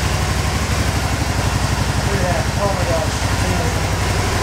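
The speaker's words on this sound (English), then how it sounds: "This thing idles beautifully." A 2013 Can-Am Spyder RT Limited three-wheeled motorcycle idles in neutral with a steady, even low pulsing throb, close and constant throughout.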